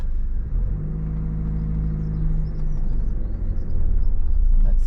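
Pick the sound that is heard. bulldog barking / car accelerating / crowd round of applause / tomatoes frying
car accelerating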